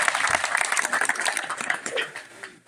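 Crowd applause at a political rally, a dense burst of clapping that fills the whole moment and fades toward the end, with voices mixed in.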